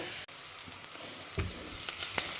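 Vegetables sautéing in a pan for a South Indian snake gourd dish, a soft steady sizzle with a few light stirring taps and clicks, faint and close, with no voices.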